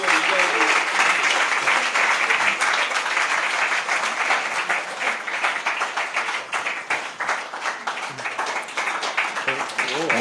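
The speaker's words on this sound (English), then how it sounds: "Please give him a big round of applause." An audience at a talk applauds loudly, a dense and steady clapping that slowly thins toward the end.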